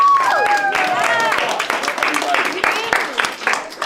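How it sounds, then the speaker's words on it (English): Audience applause from students at a lecture-style talk, a burst of clapping that rises and then thins out over a few seconds, mixed with chatter. "Round of applause for yourselves."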